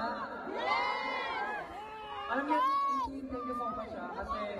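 Concert crowd from a show shouting and cheering, a dense wash of excited voices with whoops rising and falling, heard as played-back footage at moderate level with some voices standing out.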